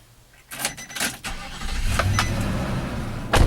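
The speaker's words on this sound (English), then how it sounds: "the engine sounds absolutely awesome on startup" A 2012 Nissan Titan SV Texas Edition pickup with a 5.6-liter V8 is started: a few clicks and clatters, then the engine cranks and catches into a steady, close low idle rumble, swelling louder at the end.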